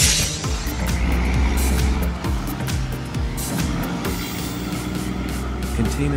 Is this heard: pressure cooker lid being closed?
no